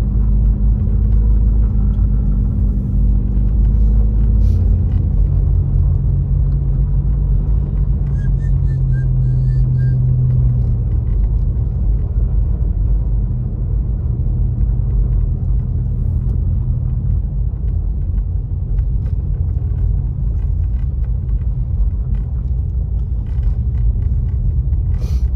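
A car drives along an icy mountain road in Big Bear, California after a snowstorm, giving a loud, constant low rumble of engine and tyres heard from inside the vehicle for the whole stretch.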